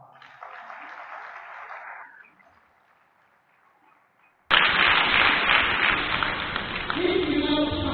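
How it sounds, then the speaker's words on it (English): Clapping breaks out suddenly, loud and dense, at an education academy's annual congress after a quiet stretch of muffled speech, continuing steadily to the end. "I thought you would give us a clap."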